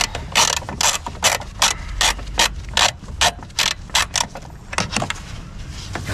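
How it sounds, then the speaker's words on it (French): A socket wrench fitted with a 10 mm socket ratchets as it unscrews a bolt, giving repeated close, loud clicking strokes in a steady back-and-forth rhythm with no talk. "Donc on dévisse la vis"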